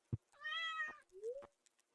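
A cartoon cat in the farming video game Stardew Valley gives a single short, rising meow when petted, clean and close, bracketed by soft clicks.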